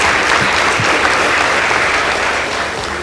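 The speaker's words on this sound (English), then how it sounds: "Please give both teams a round of applause." A studio audience claps for two high school debate teams, Muthale Girls and Mumbuni Boys, after the winner is announced; loud, dense applause holds steady across the whole stretch before easing slightly at the end.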